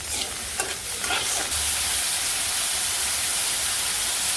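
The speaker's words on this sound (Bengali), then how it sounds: "পেঁয়াজ ভাজনা নিয়ে আলু দিয়ে দিছি" Potatoes dropped into frying onions in a pan set off a loud, steady sizzle, a bright hissing wash that stays constant after a few brief stirring clatters at the start.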